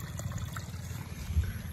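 Water trickles steadily from a natural hidden spring near Mayon Volcano in the Bicol region, a soft, close, continuous dribble lasting under two seconds.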